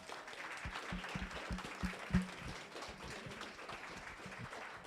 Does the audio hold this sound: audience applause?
yes